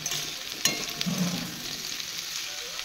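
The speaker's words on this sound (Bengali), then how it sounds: "কাঁঠালটাকে সেদ্ধ করে নিয়েছি, এখন একটু তেলের মধ্যে ভেজে নিব" Boiled jackfruit pieces frying in oil, a low continuous sizzle broken by a sharp utensil click early on and a brief low bubbling burst, no one speaking.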